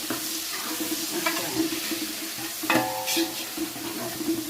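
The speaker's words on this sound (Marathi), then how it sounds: "सुकं फोडणीला मटण करते सुकं." Five kilos of mutton frying dry in a spiced tempering, with a continuous close sizzle and scraping stirs in the pot.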